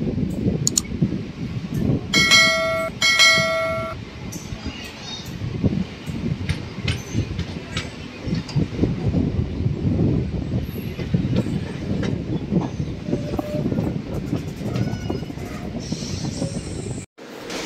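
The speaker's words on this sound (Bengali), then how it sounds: "কাটোয়া আহমেদপুরের লোকাল নতুন ট্রেন এখন ছাড়লো কাটোয়া স্টেশন থেকে 10টা 55" A new Katwa–Ahmedpur local train pulls out of Katwa station with a steady rolling rumble and a few sharp high squeals or horn tones near the start.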